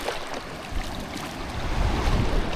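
Sea waves and rushing water as a boat heads out from a Jamaican shore, a continuous loud wash with wind buffeting the microphone and surging toward the end, no voices.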